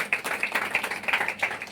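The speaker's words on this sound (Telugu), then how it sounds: "చప్పట్లు కొడదాం సార్." A church congregation claps together after a sermon, a lively run of quick, bright handclaps at a steady rhythm filling the hall, moderately loud and without speech.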